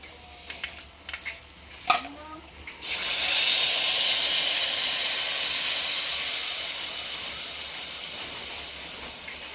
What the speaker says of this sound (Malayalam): വെളിച്ചെണ്ണയും ചൂടായിട്ടുണ്ട് ഇനി കടുക് ഇട്ട് കൊടുക്കുക